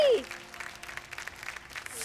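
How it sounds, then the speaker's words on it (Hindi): A few people clap at a home sports match, quick light claps in an uneven rhythm that stay fairly quiet, preceded by a short falling tone, with voices talking over them. "ओहो सीनियर वागले, जरा जम के ताली बजाइए।"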